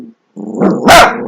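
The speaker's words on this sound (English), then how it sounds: "I have 3 chihuahuas who bark at every noise possible" One of three pet chihuahuas barks close by, a short yappy bark followed by a sharper, louder one after a brief pause.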